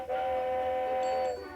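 A steam train whistle sounds in the Paper Mario video game as the train departs for Mount Rugged: a single loud, steady whistle chord lasting just over a second, with no voices.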